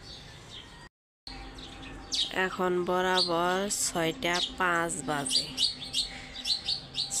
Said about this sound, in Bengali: চারিদিকে শুধু মোরগের ডাক আর পাখির ডাক শব্দ শোনা যাইতেছে।